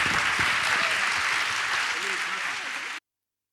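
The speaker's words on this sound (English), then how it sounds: "A big applause for them" Warm, sustained applause from a conference audience at the EMYA 2026 annual meeting, even and loud for about three seconds before cutting off abruptly into silence.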